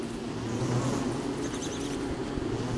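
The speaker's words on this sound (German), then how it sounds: "Die Bienen machen einen ja nichts." Bees buzz in the survival video game Don't Starve, a steady droning hum of insects that holds throughout at moderate level with no talking.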